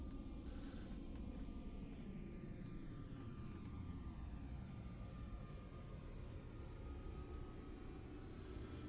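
Boeing 747-200 jet engines roaring steadily at high throttle on final approach in Flight Simulator X, a continuous loud broadband drone that stays constant throughout with no speech.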